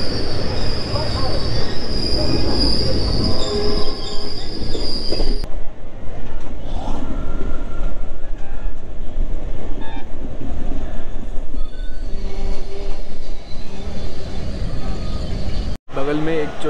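A passing train on an Indian rail route between Kolkata and Malda, heard loud and close with a continuous rumble, rattling wagons and squealing wheels, while a person talks over it.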